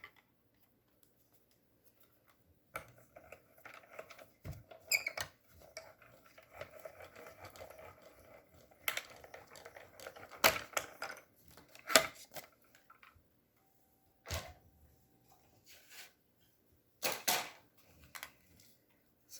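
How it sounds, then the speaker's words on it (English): Paper run through a mini cut and emboss machine: faint scattered clicks, taps and scraping over about nineteen seconds, quiet and close, with no talk. "And then we'll run it through our mini cut and emboss machine."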